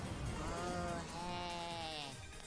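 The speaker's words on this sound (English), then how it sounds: "The goat." A goat bleats in a long wavering cry lasting about two seconds, close and clear over a noisy background.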